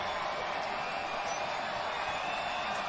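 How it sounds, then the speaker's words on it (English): Home crowd at a South Florida Bulls college football game against South Carolina State, a steady broad roar of cheering fans filling the stadium, continuous and moderately loud throughout. "Bulls home crowd coming alive"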